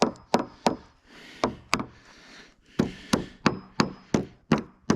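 A wooden wedge tapped into a ridge beam scarf joint: about a dozen sharp, close wooden knocks in quick pairs and runs, each cracking loud and ringing briefly.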